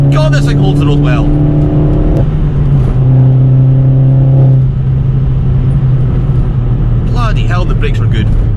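An Opel Corsa OPC/VXR accelerates hard from inside the cabin, its engine note climbing through gears in loud, steady harmonic sweeps with a brief shift dip; a person speaks over it at the start and end.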